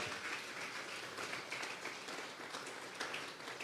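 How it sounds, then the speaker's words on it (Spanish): Soft, distant applause from a church congregation during a Sunday service spreads as a steady, even patter of many hands for a few seconds. "Vamos a regalarle ofrenda de palmas al Dios de la gloria."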